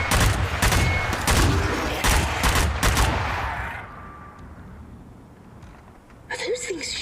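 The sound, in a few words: zombies shooting guns in Zombie Army video game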